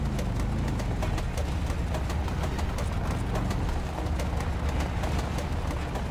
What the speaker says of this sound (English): I love the noise this truck's making, indicating it's in distress. The engine knocking.